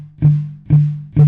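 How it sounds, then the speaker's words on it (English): A palm-muted guitar string is plucked three times at an even pace, each note thumping in short and dull before dying away quickly, with no voices. "And so it gives it a little bit of a muffled sound like this."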